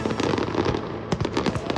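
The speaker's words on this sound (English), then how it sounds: "The glow of diyas, earthen oil lamps, and the crackle of fireworks create a magical backdrop for this celebration of lights." Diwali fireworks crackling, a dense burst of sharp pops and snaps in rapid irregular succession, loud and close, with no talking.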